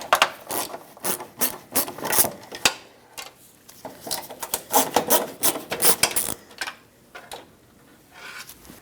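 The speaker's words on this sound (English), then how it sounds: "Use a Phillips head screwdriver and remove them both." A Phillips head screwdriver turns out screws from a headlight assembly on a 2000-2005 Ford Excursion, heard as close, rapid rhythmic ratcheting and scraping strokes that slow and fade toward the end.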